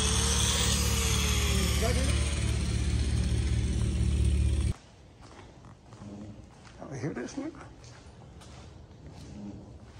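A power sander works on plastic parts for a Jeep Wrangler model, a loud steady grinding whine for about four and a half seconds that then cuts off, leaving quieter handling and scraping noises.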